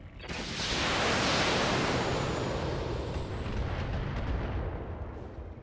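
LRM-10 indirect missile fire in the BattleTech video game, a loud sustained rumbling roar of a launched volley that swells and then slowly fades.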